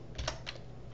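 A couple of soft, close keystrokes on a computer keyboard while entering code, two or three quiet clicks within a second against a faint room hum.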